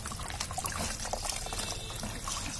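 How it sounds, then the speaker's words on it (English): Excess water squeezed from soaked cardboard for a home vermicompost bin: a steady close trickle and pour of liquid dribbling out continuously for a few seconds, with no talk. "Squeeze out excess water."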